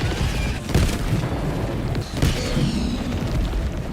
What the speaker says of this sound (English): this is what you see in those trailers, that massive explosion